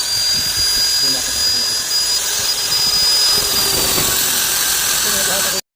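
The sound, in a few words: rotary carbide grinder grinding transmission gear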